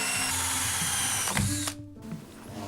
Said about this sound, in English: And now I'm just using a hole saw.